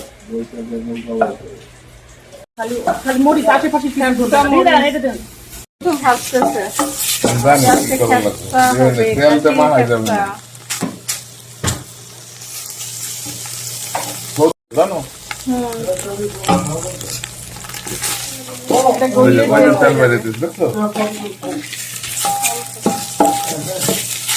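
Goat meat is stirred as it fries in its own rendered fat in a pan for Saudi kabsa. A loud, steady sizzle with stirring scrapes runs throughout, with a voice talking over it.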